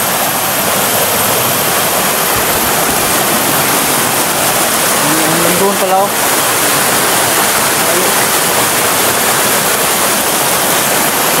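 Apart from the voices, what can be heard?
stream of water flowing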